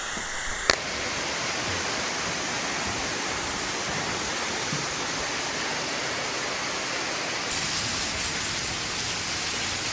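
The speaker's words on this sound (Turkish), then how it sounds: "yolda gelirken arkadaşlar Andık Şelalesi'ne uğrayalım dedik" Andık waterfall in Isparta pours in a dense, steady roar of falling water, loud and close, with no talking over it.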